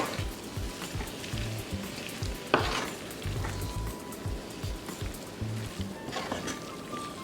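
Beef and broccoli stir fry being stirred in a pot, soft rhythmic scraping and thuds of the spoon over a low sizzle, close and fairly quiet, with one sharper knock partway through.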